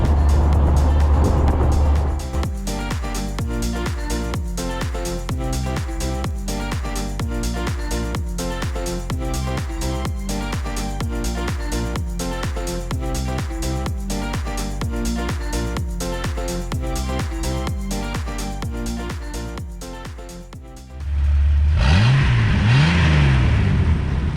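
A Jeep TJ Wrangler engine drones steadily while driving along a road with a suspected exhaust problem, loud and constant, with a change in tone near the end.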